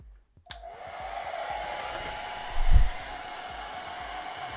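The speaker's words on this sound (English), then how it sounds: "Then you grab your heat gun or your hair dryer." A hair dryer clicks on after a brief silence and blows with a steady whooshing whine while heating heat shrink tubing over a stereo wiring harness, with a short low thump partway through.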